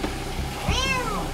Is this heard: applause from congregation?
no